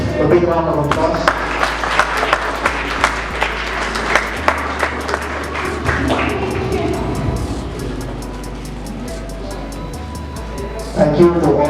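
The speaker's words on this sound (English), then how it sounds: "Please give a big round of applause." Audience claps for the judges at a college debate competition, rhythmic and spaced at first, then thinning out with a steady low hum underneath and voices near the end.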